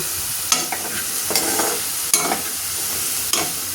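Carrot stir-fry for lunch being stirred in a pan, with a steady sizzle and four sharp scrapes of the spatula at regular intervals. It is close and moderately loud, with no talking.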